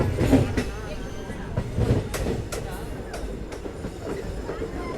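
Yeshwantpur–Hassan Intercity Superfast train running on rails, a steady rumbling roll with rhythmic clanks from the wheels, heard close from on board, with voices talking over it.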